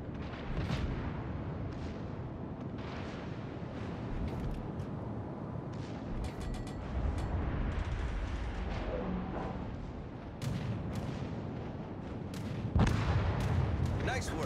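Warship guns firing in World of Warships: Legends, a naval combat game, with heavy booming salvos and blasts over a steady rumbling battle din, louder bursts near the end, while voices talk throughout.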